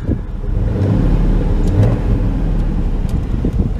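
A 1996 Chevy Tahoe engine idling steadily, a close, continuous low rumble with a slight fluctuation and no one talking.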